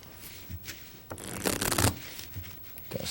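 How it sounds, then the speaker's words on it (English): A deck of playing cards is split and given a false riffle shuffle close up, with soft rubbing and sliding sounds that build to a dense riffle burst in the middle, then lighter handling noises. "So let's show you a full deck false riffle shuffle"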